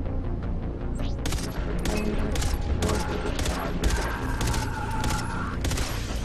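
Rapid bursts of gunfire from the Far Cry 3 Blood Dragon video game on Xbox 360, a dense stream of repeated shots over a steady low rumble, close and loud throughout.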